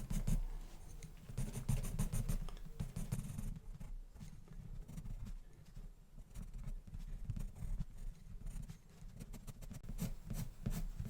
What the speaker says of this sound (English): Just taking the pencil across there.